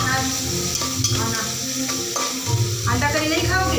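Onions cook in a pan over a low flame, a soft steady sizzle with occasional stirring scrapes, close and continuous throughout.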